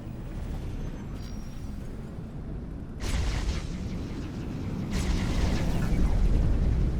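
Weapons fire pounds against a ship's shield in the space game X4: Foundations, a steady low rumble jumping to heavier impact bursts around the third and fifth seconds, with continuous booming underneath.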